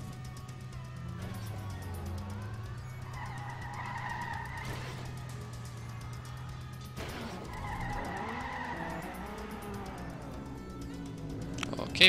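A car racing in the video game Trackmania, a steady engine drone shifting pitch with tire skids and bumps throughout, with occasional talk over it.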